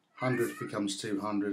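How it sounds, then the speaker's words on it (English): A house cat howls in drawn-out, wavering meows close to the microphone, mixed in with someone talking over it. "That's my cat in the background howling."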